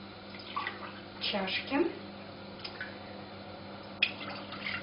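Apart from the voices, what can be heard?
water poured from cups into a pot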